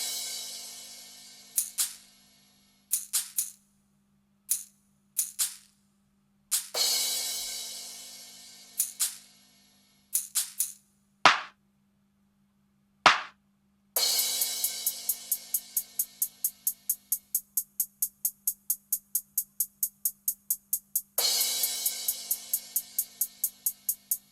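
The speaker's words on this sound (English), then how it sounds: "All of the percussion, all the kind of extra instruments included in the drum groove, sound like this, soloed." Soloed percussion layer from a hip hop drum groove: bright noisy hits and shaker-like bursts in syncopated patterns, a couple of sharp clicks, then rapid repeated ticking rolls, all close and dry over a faint low hum.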